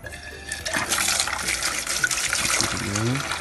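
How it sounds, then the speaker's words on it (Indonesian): Herbs for traditional jamu are rinsed under running water, a loud, close gush that splashes and swirls continuously, with a faint voice briefly in the background. "Jadi sebelumnya kita cuci dulu"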